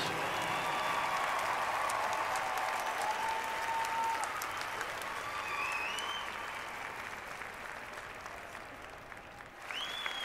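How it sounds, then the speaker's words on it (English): Sustained crowd applause fills an arena after marching band performances at a state finals competition, steady and dense throughout with scattered whistles and cheers, slowly tapering toward the end. "Let's give a big round of applause to all of our Flight 3 participants."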